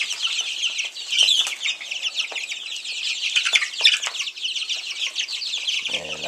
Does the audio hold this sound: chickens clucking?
yes